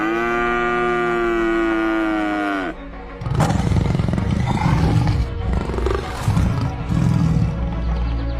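A tiger prowls toward three tethered cows in the Sundarbans: a long, sustained, loud bellowing moo gives way to a deep, rough roaring growl, with heavy rumbling calls continuing close and loud.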